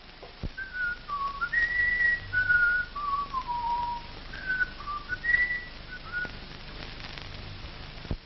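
A person whistles a wandering melody of long, sliding notes, fairly close, with faint background hiss and no talking.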